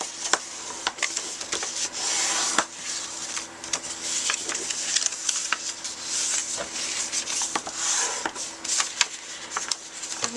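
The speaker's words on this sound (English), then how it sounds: "I'm just folding on the score lines with my bone folder." Designer Series paper creased along score lines with a bone folder for a gift bag, giving soft, close rubbing and scraping with scattered light clicks and taps, no voices.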